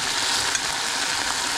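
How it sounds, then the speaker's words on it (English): Kangaroo meat sizzling and spitting as it fries and browns in a hot pan, a dense steady crackle with a small pop, close and continuous. "So that's going to sizzle up on them nicely."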